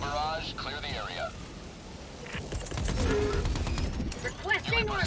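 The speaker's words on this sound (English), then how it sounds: "Firing orbital barrage." Orbital barrage strike in Helldivers 2, a rumbling string of explosions and heavy blasts building in the second half amid gunfire, with radio-style voice lines and game effects.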